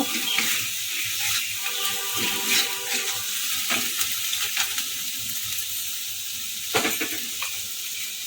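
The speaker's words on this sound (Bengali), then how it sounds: "এক চামচ মতো সয়া সস একটু নেড়ে চেড়ে নেব" Steady sizzling and light stirring of veg pasta soup in a pan as soy sauce goes in, a continuous hiss with occasional scraping clinks.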